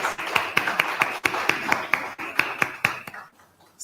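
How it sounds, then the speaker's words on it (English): Audience applause for a mayoral candidate at a televised debate in Freetown: a burst of dense, even hand-clapping that carries steadily for about three seconds, then fades out. "Can we give her a round of applause, please?"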